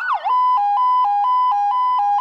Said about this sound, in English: It's got the sirens.